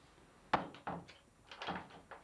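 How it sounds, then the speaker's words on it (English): A door in a house is pushed shut, giving a few soft knocks and thuds in quick succession, close and quiet. "Close this door?"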